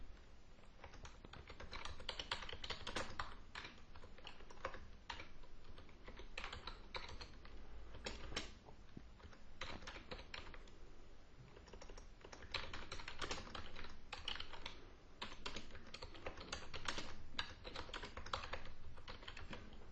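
Keys clatter on a computer keyboard in quick, uneven bursts of clicks with brief pauses, close and fairly quiet with no voices.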